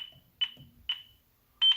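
A ProA7Plus all-in-one security alarm panel beeps as its alarm is cancelled: three sharp, high electronic beeps spaced apart, the last slightly longer and doubled, over near silence.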